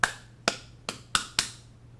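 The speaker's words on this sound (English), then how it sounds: "I'm going to clap them to the left" Two hands clap five times on the left side, in sharp, distinct, unevenly spaced strikes over a faint background hiss.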